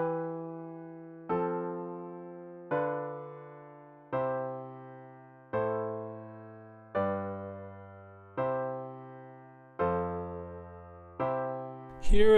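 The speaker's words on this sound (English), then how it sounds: "Here is the sound of the progression." A chord progression plays as a series of sustained, evenly spaced chords, each struck about every second and a half and decaying before the next, demonstrating root motion, clean and alone with no voice.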